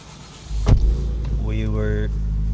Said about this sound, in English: Jesus Christ, that car's loud.